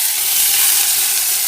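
Amaranth stems hit hot coconut oil after mustard seeds have popped, giving a loud, close, steady sizzle of frying that holds evenly with no talking.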